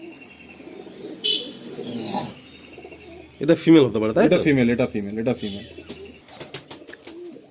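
Pigeons coo softly at a pigeon seller's stall in Kolkata, where Malwai birds are on sale; the low cooing runs under close, steady talk by several men.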